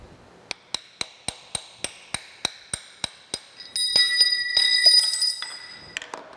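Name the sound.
hammering a drift to knock out a taper shank drill chuck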